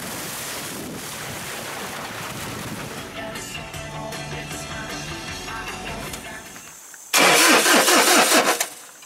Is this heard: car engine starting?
yes